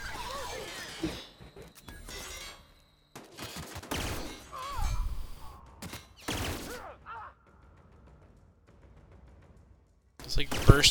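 Bursts of pistol fire in the sci-fi shooter The Outer Worlds, several short volleys spaced across the span amid game noise, with a voice talking between them.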